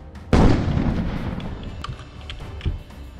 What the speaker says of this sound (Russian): Артиллерия по нам хреначит.